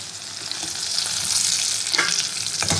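Potatoes frying in hot oil give a steady, close sizzle with crackling spatter throughout, growing a little louder toward the end, with no voices.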